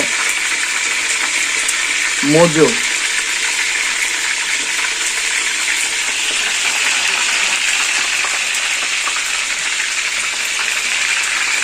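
Mojo fries in a pan with a steady, even sizzle throughout, and a brief voice is heard early on.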